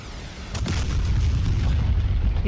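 A deep rumbling explosion in the DCS flight simulator during an A-10 dogfight, a low boom that swells and lingers as a sustained roar, loud and heavy, with no voices.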